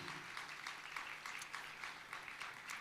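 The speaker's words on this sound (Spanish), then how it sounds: "Fuerte ese aplauso de alabanza al Señor." A church congregation claps in praise to the Lord after a prayer, a steady, fairly soft wash of many hands heard from across the room.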